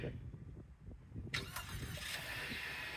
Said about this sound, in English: for cold days like today, we're going to be able to do things like remote start using the key fob right here